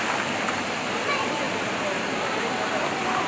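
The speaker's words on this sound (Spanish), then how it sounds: "a ver estas hermosas fuentes, hermosas fuentes" Outdoor water fountains on a windy day, a steady broadband rush of falling and splashing water that fills the scene continuously at close range, with a voice talking over it.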